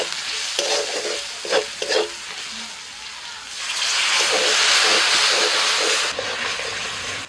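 Masala of salt, turmeric, Kashmiri chilli powder, coriander and cumin powder is stirred in a hot pan. A few scraping strokes give way to a strong, rising sizzle that holds for several seconds, close up, with no talk.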